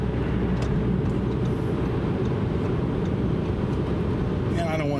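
A 2014 Audi A7 TDI crawls slowly uphill, its diesel engine a steady low drone mixed with road noise heard from inside the cabin, while someone talks over it.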